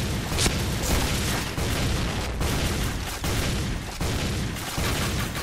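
Point Blank firefight with a grenade explosion, as dense, loud bursts of gunfire and booming blasts crowd together continuously in the foreground.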